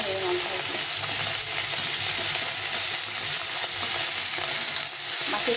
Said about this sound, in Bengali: এখন আমি উল্টো পাল্টে ভেজে নেব।